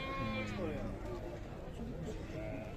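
Sheep bleat repeatedly at an open-air livestock bazaar in Sokuluk, their wavering calls rising over a constant murmur of traders talking nearby.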